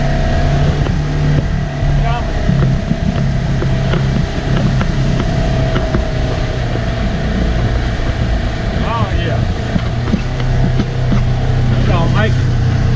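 An off-road vehicle engine drones loud and continuous as it climbs a muddy hill on a farm during rain-soaked mud riding, heard close with a steady low rumble throughout.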